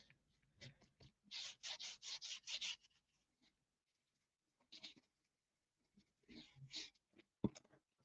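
Dry rubbing of colour into paper by hand, a run of soft rasping strokes, then brief scuffs after a pause, close and quiet.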